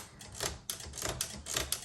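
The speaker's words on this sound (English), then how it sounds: "Okay, so let's go ahead and do some typing." Typing on a 1960s Remington Personal Riter manual typewriter, with a quick run of sharp, close keystrokes clacking in an uneven rhythm and no voices.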